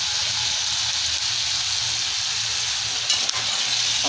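Chicken liver fry with pepper powder sizzles loudly in a pan, a continuous bright hiss held throughout with a couple of brief stirring knocks near the end.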